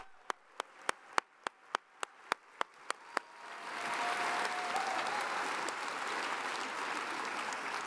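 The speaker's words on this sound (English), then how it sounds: "Let's give them a round of applause for a job well done." At a startup competition final, about ten sharp, evenly spaced single claps ring out first. Then a large audience breaks into broad, sustained applause that carries on to the end.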